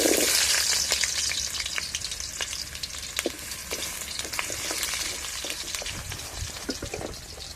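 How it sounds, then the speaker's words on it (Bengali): Diced potatoes, cut for a meat dish, fry in hot oil with a steady close sizzle dotted with sharp pops and crackles throughout, no talking. "যে মাংস দেওয়ার জন্য আলুগুলো আমি হচ্ছে ডুমডুম করে কেটে নিয়েছি সেটাই আমি ভাজতে দিয়ে দেবো"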